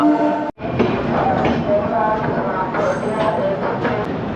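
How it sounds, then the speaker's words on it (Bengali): A train pulls into Patna Junction, its steady rumble filling the scene with a brief dropout near the start, while voices talk faintly underneath. "9:20 বাজে আর ট্রেন ঢুকলো পাটনা জংশন"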